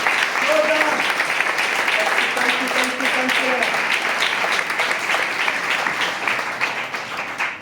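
Congregation at a Sunday worship service clapping together in dense, sustained applause that holds steady throughout, with faint voices mixed in underneath.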